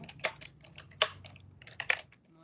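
Code being typed on a computer keyboard during a C# programming lesson, quiet close key clicks in irregular bursts with a few sharper, louder strokes and short pauses.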